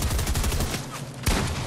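Shotgun fire in Fortnite, a quick series of loud blasts close together followed by one sharp shot near the end, no talk over it.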